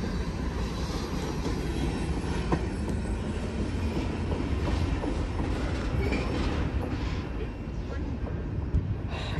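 A train rumbles past close by, a steady loud roar with rolling rail noise and faint clatter throughout, no pauses.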